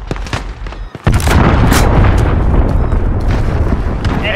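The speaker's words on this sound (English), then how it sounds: "Enemy cruise missile incoming." A cruise missile strike explodes in a Modern Warfare team deathmatch, with a sharp boom about a second in, then a loud, sustained rumbling roar of blasts and gunfire that stays dense to the end.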